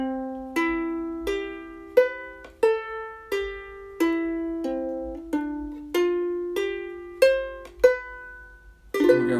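Opening four bars of a song strummed as steady chord strokes, about one every second, each ringing briefly before the next, close and clear with no talking.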